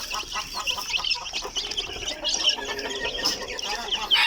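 A batch of week-old US Silkie chicks, about two dozen of them hatched in an incubator, peep in a busy, overlapping high-pitched chorus right up close. The chirping carries on continuously throughout.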